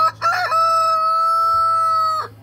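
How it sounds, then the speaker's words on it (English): A rooster on a remote Alaska cabin homestead lets out one loud, close, sustained crow lasting about two seconds, with brief clucking just before it. "All the chickens are back in."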